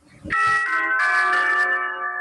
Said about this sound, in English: there's your bell to save you from being detained for too long